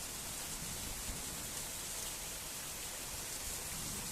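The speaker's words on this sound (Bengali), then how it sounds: "বৃষ্টিটা প্রচুর হচ্ছে" Heavy rain pours down after a storm, a dense, even hiss of falling water with no breaks, steady and faint, heard alone.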